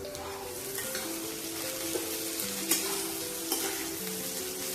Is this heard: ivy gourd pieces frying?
yes